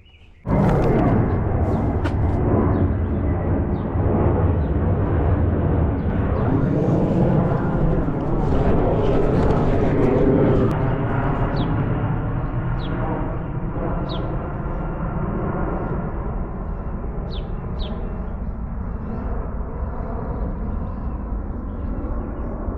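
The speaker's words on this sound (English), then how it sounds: "They make more noise than the average planes that fly out here in the middle of nowhere." A large military "Doomsday" aircraft flying overhead above farmland during corn planting, a loud, steady roar that fills the scene for over twenty seconds, holding strong and then easing slightly as it passes.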